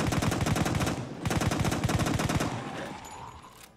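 Bursts of automatic fire from a MAS-38 submachine gun in Fallout 4, two long rapid strings of close, loud shots separated by a short pause, then a fading tail of echo and clatter.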